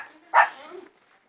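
A single dog bark rings out at a rural São Pedro family gathering with barbecue and bonfire, sharp and fairly close, with faint background murmur around it.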